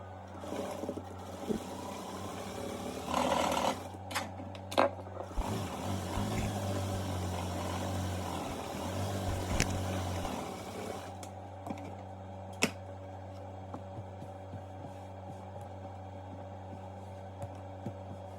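A sewing machine stitches a Yoruba fila cap half an inch around its edge, running as a steady low mechanical whir for several seconds, then stopping and leaving a quiet room with a few faint clicks.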